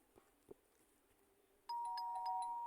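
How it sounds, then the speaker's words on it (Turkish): A doorbell chimes loudly with a sustained electronic ding-dong tone after a couple of soft thumps in a quiet room. "Zil çalıyor."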